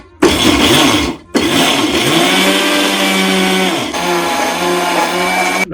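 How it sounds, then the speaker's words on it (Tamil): A mixer grinder whirs loudly as it grinds peanuts into peanut butter, starting after a brief pause, cutting out for a moment, then running steadily again with a slight change in pitch. "நம்ம வந்து இப்போ இதை அரைக்க போறோம்"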